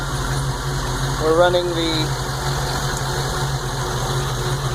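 A car engine with a PCV catch can idles steadily with a low, constant hum while someone speaks briefly over it.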